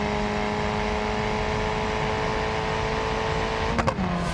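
A race car engine in BeamNG.drive holds a loud, steady high-revving drone, then breaks briefly near the end as a gear shift cuts in.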